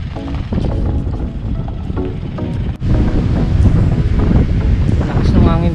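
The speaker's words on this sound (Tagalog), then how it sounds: "Lakas ng hangin dito." Strong wind buffets the microphone in heavy rumbling gusts at a campsite at Kaliraya Surf Kamp, with a sharp knock midway and faint voices underneath.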